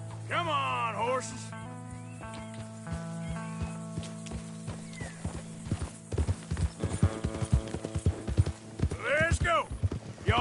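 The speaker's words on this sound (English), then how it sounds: "Come on, horses." Hooves clatter in a quickening clip-clop rhythm as horses gallop in Red Dead Redemption 2, building louder toward the end, with a brief whinny and a player talking over the game audio.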